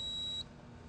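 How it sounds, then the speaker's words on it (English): A single steady electronic beep from a Greenlee SF-530 stud finder marking a stud edge, clear and fairly loud, holds for under half a second then cuts off, leaving quiet room noise. "The LCD, the beep, and the spotlight indicate one edge of the stud."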